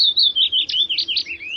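A Willow Warbler sings a single clear, close phrase, a sweet descending run of liquid notes that flows without a break and fades at the end.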